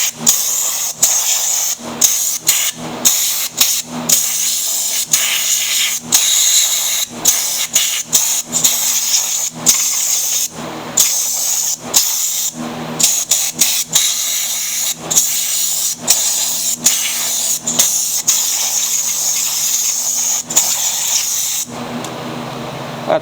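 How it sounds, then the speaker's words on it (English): Compressed air blasts grass and debris off a Troy-Bilt lawn mower engine in repeated loud, hissing bursts of varying length, close up, with brief gaps between blasts. "blow some of this grass and debris off the engine"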